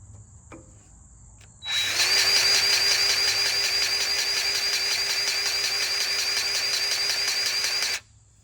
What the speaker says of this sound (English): So I got an electric grease gun, thanks to Harbor Freight.